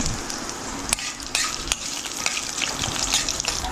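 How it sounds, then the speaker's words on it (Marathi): Cumin, chillies and curry leaves fry in hot oil for paper poha, a steady close sizzle with small crackles and pops running throughout. "हांव तो आतां जिरे, मिरसांग आनी करबेळ घाला फ्राय करता असं."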